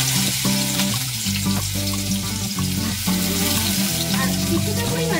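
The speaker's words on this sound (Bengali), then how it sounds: "আমি কড়াতে প্রথমে একটু তেল, সর্ষের তেল গরম করে নিয়েছি। এতে আমি দিয়ে দিচ্ছি গোটা জিরে, তারপর আমি দিয়ে দেবো এতে কুচানো আদা আর কুচানো লঙ্কা" Whole cumin, chopped ginger and green chilli fry in hot mustard oil in a kadai with a steady sizzle, heard beneath background music.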